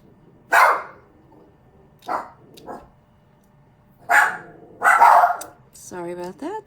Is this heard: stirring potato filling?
no